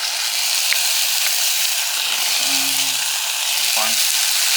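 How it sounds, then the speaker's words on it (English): Shallots sizzle in a hot pan while being stirred. The frying hiss is loud and constant, with a few brief scraping and clinking sounds from the utensil. "And then just mixing the shallots."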